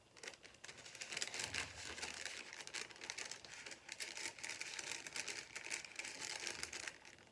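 Folded parchment paper swiped across wet pigmented resin gives a continuous papery crinkling and scraping rustle, steady and close for several seconds, with no talking.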